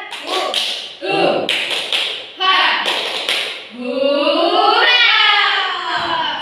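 Schoolchildren in a classroom perform a rhythmic clapping chant, bursts of sharp hand claps in quick patterned groups alternating with their voices calling out together.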